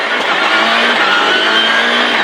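A rally car on a stage of the 2011 Rallye d'Allemagne accelerates hard, the engine loud and close with a strained, rising drone, and no talk over it.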